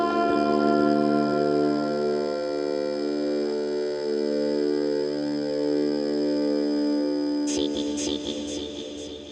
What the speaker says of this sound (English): the note recognition gets all jumbled and it sounds like this.